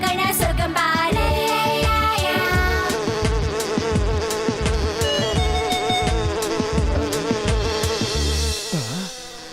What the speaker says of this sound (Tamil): தேனீக்கள் பறக்கிறத பார்த்தா பக்கத்துல தான் எங்கேயோ தேன் கூடு இருக்கணும்னு நினைக்கிறேன்.